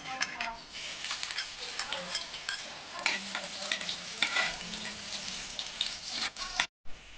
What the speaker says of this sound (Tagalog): Lagyan na natin ng olive oil. Higasan na natin yung ating bawang.